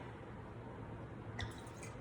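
A small splash of tequila poured into shrimp ceviche, a brief wet drip-like plop near the end over a steady low background hum.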